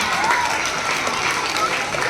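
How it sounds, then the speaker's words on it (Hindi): Schoolchildren clapping together at a prize distribution during an annual sports event, a dense, steady wash of crowd applause filling the space, with a voice over a loudspeaker on top. "एक बार सभी बच्चे जोरदार तालियां बजाएं"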